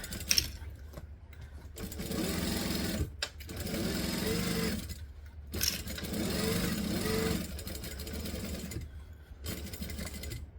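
Sewing machine stitching a fabric bag in rapid mechanical bursts, running for a few seconds at a time with brief pauses between, close and clear with no talking.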